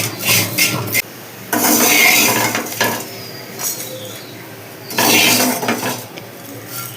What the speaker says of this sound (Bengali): নিম পাতা আর আলু ভাজা আমি এবার প্লেটে তুলে নিচ্ছি।